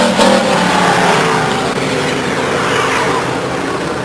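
A stock car at Stockton 99 Speedway comes off turn 4 with a loud, continuous engine roar that swells and holds steady, close and dominant over the open track ambience.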